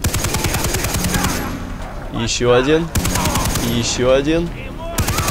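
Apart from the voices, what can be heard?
machine gun firing in video game Far Cry 3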